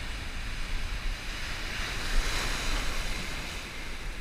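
Ocean surf breaking steadily on a beach during a fall fishing run, a continuous broadband wash of waves with a slight swell near the middle, mixed with some wind noise on the microphone and no talking.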